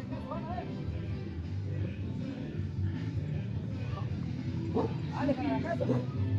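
A dog barks and yips a few times amid a busy, noisy street in La Providencia, León, Nicaragua, with people talking nearby.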